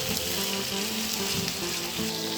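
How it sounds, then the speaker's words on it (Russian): Onion sizzles as it fries in heated vegetable oil in a saucepan, a loud, continuous crackling hiss with no voices over it. "В разогретое высыпаем лук."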